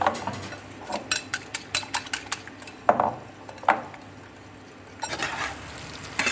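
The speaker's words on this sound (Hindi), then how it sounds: "खूब देर तक इसको फेंटिए, जितना ज़्यादा फेंटिएगा उतने ज़्यादा अच्छा होगा" A fork whisks eggs with masala in a bowl for an omelette, fast rhythmic clinks in steady runs near the microphone, pausing briefly before a few slower scrapes resume.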